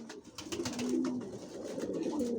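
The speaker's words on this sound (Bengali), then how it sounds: "ভিউয়ার্স দেখতে পাচ্ছেন এখানে সব অ্যাডাল কবুতর" Low, rolling coos from a few nearby adult racing pigeons overlap in a short burst, soft and throaty.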